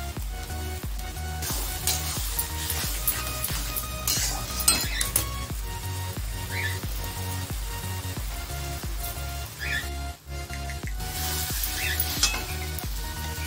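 Masala and onions fry in a pan for vajri masala curry, sizzling steadily while a spoon stirs and scrapes against the metal with frequent light clinks.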